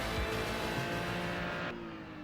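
Ferrari GT3 race car engine in the iRacing video game, a steady, loud, buzzing drone with rich harmonics that holds at high revs, then the pitch and tone shift slightly near the end, with no talking.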